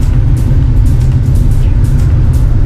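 A Wuling Confero S ACT car moving off in drive and accelerating through the gears, heard from inside as a steady, loud low engine and road rumble with no talking.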